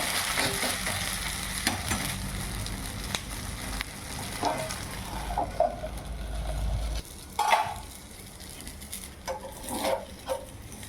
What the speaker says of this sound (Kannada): ಈಗ ಇದನ್ನು ದೋಸೆಯನ್ನು ಎಬ್ಬಿಸಿ ತಿರುವಿ ಹಾಕಬೇಕು.